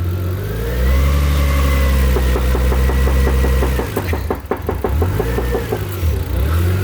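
A car engine runs loud and steady after an engine swap, holding a mid-pitched idle with rhythmic knocking pulses and a brief stumble near the middle as it begins running out of fuel.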